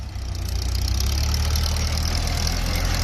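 A Kubota L4708 diesel tractor engine idles steadily up close, a loud low rumble with a rapid knocking pulse that holds constant throughout.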